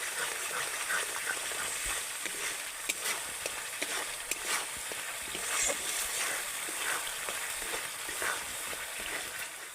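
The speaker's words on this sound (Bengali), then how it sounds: "এবার সব মশলাগুলোকে আমি একসাথে ভালো করে কষিয়ে নেব" Spice masala is sautéed and stirred in a pan over medium heat, giving a steady crackling sizzle with scraping stirs. It runs continuously and fairly close, with no talking.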